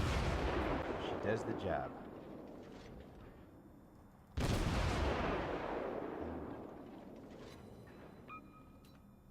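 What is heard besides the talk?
naval ship cannon fire from a video game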